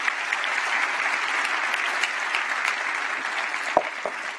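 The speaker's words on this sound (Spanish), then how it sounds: "denle un aplauso al rey" A church congregation applauds during a Friday service, a dense, even clapping wash that holds steady throughout with a couple of louder individual claps near the end.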